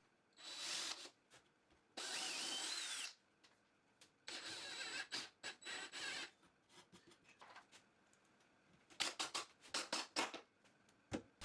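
Power drill pre-drilling and driving screws into wooden bed supports for a modern queen headboard, several separate whirring bursts of varying length, close and fairly loud, with a flurry of short pulses toward the end.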